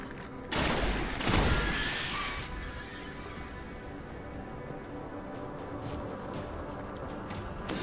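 Gunfire in the video game Destiny: The Taken King, a sharp burst early on that fades into a long, dense, rumbling wash of game ambience. No one speaks.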